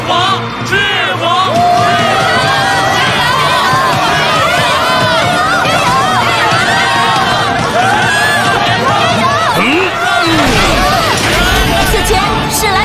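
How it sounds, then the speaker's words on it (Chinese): An arena crowd in an animated series roars and chants continuously as two academy teams enter for a tournament match, a dense, loud wall of cheering voices with babble throughout and a brief lull near the end. "让我们用热烈的掌声欢迎双方选手入场"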